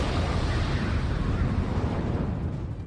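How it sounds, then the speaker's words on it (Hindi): A Russian drone bombing strike on a Ukrainian military base sets off an explosion, heard as a continuous deep, heavy rumble that holds steady for about three seconds. "रूस के इस हमले के बाद वहां तेज धमाका हुआ"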